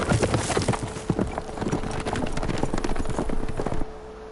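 Horse hooves clip-clopping in the Uncharted 4 video game, a quick close run of hoofbeats with a faint whinny, loud and continuous before stopping abruptly near the end.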